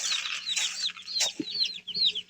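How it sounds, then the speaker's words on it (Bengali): Brahma chickens cluck continuously in a close, busy chorus, with overlapping rising calls and a few sharper squawks over a low background hum. "ব্রাহ্মা মুরগিগুলো ওইগুলো হচ্ছে"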